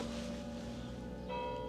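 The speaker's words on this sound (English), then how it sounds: "the church bell scared the life out of me" A church bell rings faintly in the distance from the grounds of an abandoned countryside house, with sustained humming tones and a fresh strike near the end.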